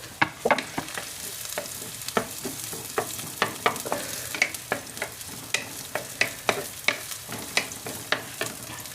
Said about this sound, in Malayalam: ഇനി നമുക്ക് സബോള ഒരു കഷ്ണം അരിഞ്ഞത് അതും കൂടി ഇട്ട് കൊടുക്കുന്നുണ്ട്.